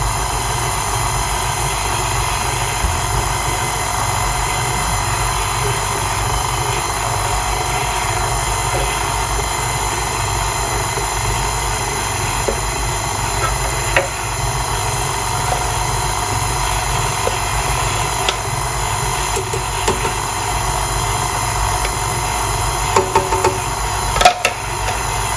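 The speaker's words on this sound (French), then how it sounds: "on va laisser bien pétrir gentiment en première vitesse jusqu'à ce que ce soit bien incorporé" A stand mixer running at its first, slowest speed while kneading tigelle dough: a steady, even motor drone with a faint rattling texture that holds unchanged for about twenty-five seconds, with a few small knocks near the end.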